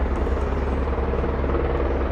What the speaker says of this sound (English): Anyone who knows what sort of helicopter this is